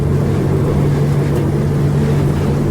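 Steady, loud engine drone from a Finnmaster Pilot 8 Tour motorboat revving during a turn, with a strong low hum, holding a constant pitch throughout and nothing else audible.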